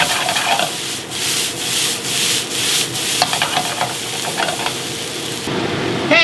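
A spoon stirs a pupusa mixture in a pan, giving repeated rhythmic scraping strokes over a soft sizzle, close and clear, without speech.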